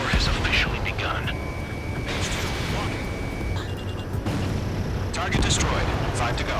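A destroyed target explodes in the Ace Combat 7 flight game, a loud, sustained rumbling blast mixed with jet engine roar and radio chatter.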